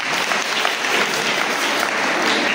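Audience applause fills the hall at a Sunday school children's drama and culture competition, dense and loud clapping sustained evenly throughout.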